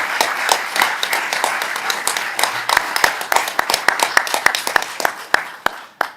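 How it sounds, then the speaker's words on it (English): A seated audience applauds at a city commission inauguration ceremony for newly elected officials and their families, starting as dense clapping and thinning into scattered individual claps before fading out. "Let's give Penelope and Maglio and their families a well-deserved round of applause."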